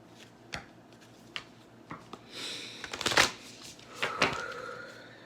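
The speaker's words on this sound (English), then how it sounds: "So now I'm going to pull some cards from the Work Your Light Oracle deck." Oracle cards from a Work Your Light deck being shuffled by hand, a run of soft papery riffles and flicks with a few sharper snaps, close and fairly quiet, no talking.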